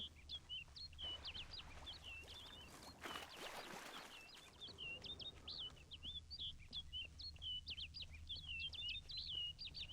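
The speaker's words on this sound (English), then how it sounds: "Looks like the bird's leading me somewhere." Small birds chirp and tweet steadily in Witcher 3: Wild Hunt, Blood and Wine, a run of bright repeated calls over a faint ambient hum, briefly masked by a whooshing rush in the middle.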